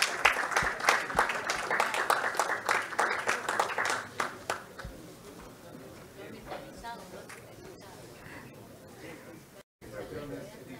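Applause at a mining forum, as a prize winner is awarded a backpack: a burst of clapping for about four seconds, loud and dense, then fading into murmuring chatter and room noise.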